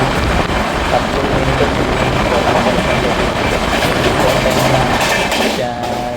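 A passenger train runs past close by, a loud continuous rumble with rhythmic clickety-clack of wheels over rail joints from start to finish.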